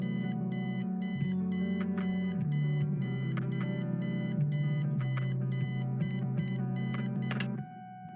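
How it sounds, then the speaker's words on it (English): Eileen's obnoxious alarm clock rings in the video game Returning to Conwell Springs, a loud, steady electronic beeping tone with pulsing repeats that carries on for several seconds and then cuts off near the end. "Eileen's obnoxious alarm clock. The noise makes me want to stab myself with something dull."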